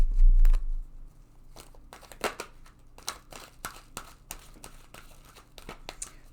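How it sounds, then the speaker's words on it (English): A tarot card deck being shuffled, with quick papery riffles and soft slaps coming in irregular bursts close by, after a brief low thump at the start and without any talk. "let's go ahead and shuffle this deck several times"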